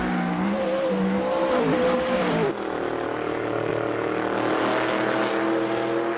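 Race car engines in an Assetto Corsa championship race, including a Falcon, roaring continuously with a rising then falling pitch as a car drives off a corner, followed by another steady engine drone.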